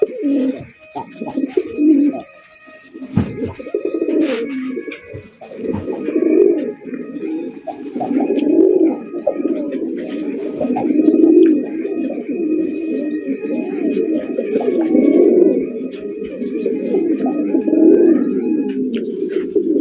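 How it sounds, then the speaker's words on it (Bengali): Red Bombay pigeons cooing nearby in repeated throaty, rolling coos that swell and fade every few seconds. The calls overlap in a steady, loud chorus with some higher chirps and background noise. "দেখেন কত সুন্দর একজন আপনার লাল টুকটুকা বোম্বাই কবুতর"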